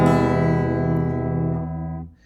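A single strummed chord on an out-of-tune guitar rings out and slowly decays, its harmonics sounding slightly clashing, with no voices present.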